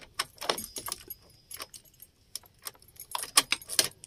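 A ring of car keys jangles and clinks in several bursts as the ignition key is pulled from a car, close by and bright, with brief quiet gaps between the rattles.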